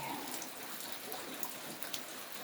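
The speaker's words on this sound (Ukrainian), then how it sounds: "9 травня у нас іде дощик." Light May rain falls steadily on a village garden with roses, a soft, even hiss of drops with occasional faint taps, distant and quiet with no voices.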